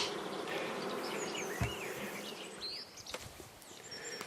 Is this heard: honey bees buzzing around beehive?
yes